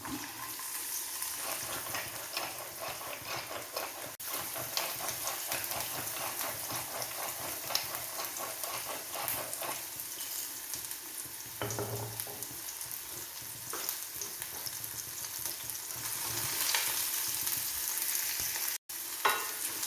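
Onions hiss and crackle in oil in a pan with yam, a long close steady sizzle with stirring scrapes and occasional clinks, growing a little louder near the end, no talking.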